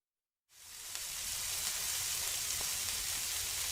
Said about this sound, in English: That's the sound of steaks on a grill.